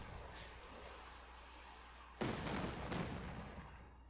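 Katyusha rocket artillery in the Company of Heroes 2 war game: a low steady rumble, then a sudden loud blast followed by a second burst and a lingering roar of battle noise.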